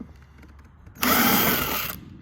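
A power drill fitted with a Torx bit whirs loudly for about a second after a quiet start, then winds down.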